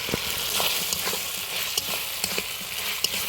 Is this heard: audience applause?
no